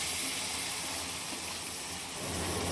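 Sliced onion frying in hot oil for a fish-head mung dal, a steady loud hiss and sizzle that holds evenly for the whole stretch, with no talk.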